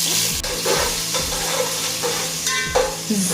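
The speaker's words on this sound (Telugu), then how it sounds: "సో ఆనియన్స్ అనేది కొంచెం బ్రౌన్గా అయ్యేంత వరకు కొంచెం ఫ్రై చేసుకోవాలి" Onions fry in hot oil for chicken biryani, a continuous close sizzle broken by repeated scraping stirs of a spatula in the pan.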